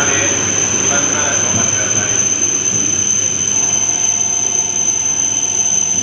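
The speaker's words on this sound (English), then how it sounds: "the last train's about to depart platform 21" A Shinkansen bullet train departs from a platform at Tokyo station, a loud, steady rumbling roar with a thin high whine running throughout.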